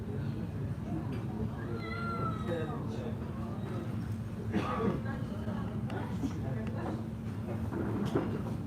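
A cat meows several times outdoors during a walk, short plaintive calls over steady low traffic hum and street noise, with occasional scuffs and rustles nearby.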